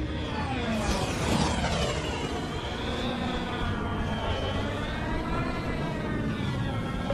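A bomber aircraft flies over a Star Wars Battlefront battlefield, its engine a loud, steady roar with a sweeping whine that holds throughout.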